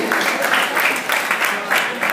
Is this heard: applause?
yes